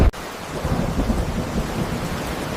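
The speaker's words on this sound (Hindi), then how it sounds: "लगता है बारिश अभी रुकने वाली नहीं है रे।" Heavy rain pours steadily while low thunder rumbles and rolls underneath, starting with a sharp crack before the long grumble.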